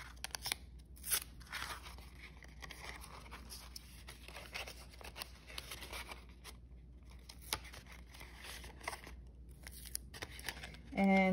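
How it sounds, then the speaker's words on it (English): Pieces of tape are torn and stretched while a paper roller coaster funnel is built, producing repeated short ripping and crinkling bursts with a louder rip at the end, under steady background and occasional talk. "I need some more pieces of tape."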